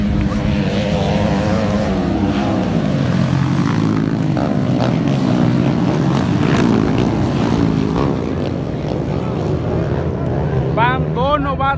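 Racing engines accelerating hard during a novice-category race, a loud continuous roar with shifting pitch that runs the whole stretch while a commentator talks over it.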